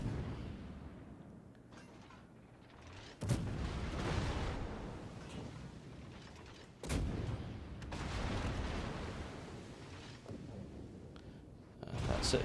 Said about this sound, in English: There's the Montana shells coming in